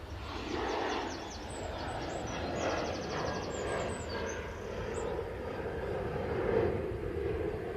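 Propeller aircraft passing at an airport spotting location, a broad steady engine drone that swells slightly and fades, moderately loud, with faint bird chirps above it.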